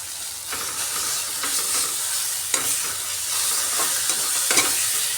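Powdered turmeric and red chilli sizzling in a pan for an egg dish in South Indian style, a continuous bright hiss broken by repeated scraping strokes of a spoon stirring, close and with no talk.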